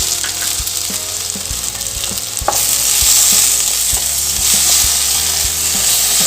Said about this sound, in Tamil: இப்போ இதை உள்ள சேர்த்து வெங்காயத்தை கூட வதக்கிக்கலாங்க.